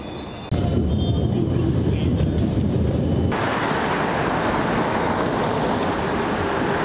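Subway train ride in Korea, a steady loud rumble of the moving carriage that starts abruptly and continues throughout, with the rolling roar shifting in character partway.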